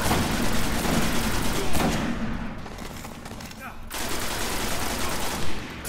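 Sniper and automatic gunfire in the Destiny co-op video game, a dense, continuous barrage of shots and impacts that stays loud throughout, briefly dipping before resuming, with talk mixed in.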